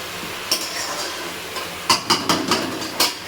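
Masala spice paste being stirred and fried in a pan for a fish curry, with soft sizzling under a series of sharp spatula scrapes and taps against the pan.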